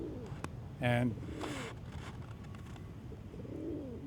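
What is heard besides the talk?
pigeons cooing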